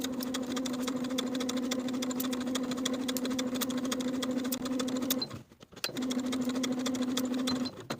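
Sewing machine stitching bias tape along a peplum top's neckline, a steady, fast mechanical hum with rapid needle clatter, briefly stopping midway before resuming at the same even pace.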